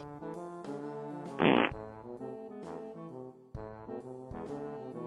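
A single cartoon-style fart sound effect blasts loudly for about half a second, standing out over light, bouncy background music in an animated Pup Scouts story about good manners.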